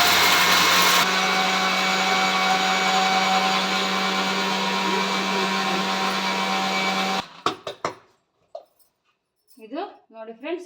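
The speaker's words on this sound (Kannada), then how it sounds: "ಈಗ ನಾನು ಮಿಕ್ಸಿ ಮಾಡ್ತೀನಿ." An electric mixer grinder whirs loudly and steadily for about seven seconds as it blends garlic for lemon pickle, then cuts off abruptly, leaving a few soft clinks and a voice talking.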